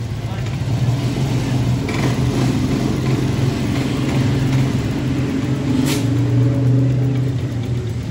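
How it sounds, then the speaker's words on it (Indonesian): A motorcycle engine runs steadily nearby after a valve fault that made it stall when hot, a continuous rough rumble with a slight rev and a sharp click partway through. "motor sudah bisa hidup"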